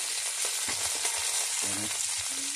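Fish frying in hot oil over a wood fire, a steady loud hiss and crackle of sizzling that runs throughout, with faint scraping and stirring knocks beneath.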